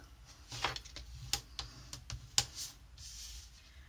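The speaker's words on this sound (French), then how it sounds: "Je vais venir plier ma carte." Paper scrapbooking card being folded and creased by hand, a quiet series of sharp crisp clicks and taps spaced irregularly over a few seconds, close up, with no voice.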